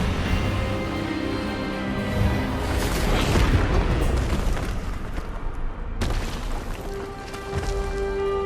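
Expelliarmus spell cast in a Hogwarts Legacy duel, a loud sustained magical blast with booming, crackling bursts over steady game music, swelling in the middle and cutting sharply near the end.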